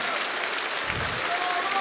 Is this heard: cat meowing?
no